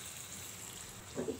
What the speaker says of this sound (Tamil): இல்லை ஒரு 1/2 கப்பு தண்ணி சேர்க்குறேன்.